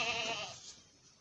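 A single nearby goat bleat at a goat farming exhibition, a quavering cry that fades over about a second with quiet background chatter beneath.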